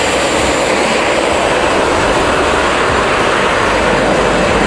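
A Grumman F4F Wildcat's piston engine roars at an airshow, a loud, continuous broadband drone holding steady throughout with no speech.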